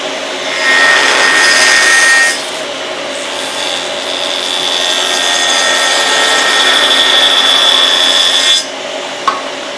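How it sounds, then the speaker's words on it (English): A bent wooden board is pushed through a jointer, the cutter head giving a loud whirring rasp as the wood feeds across the blades, then a steadier hum before the pass ends. "when I push it through the joiner, I want to keep all the pressure on one side"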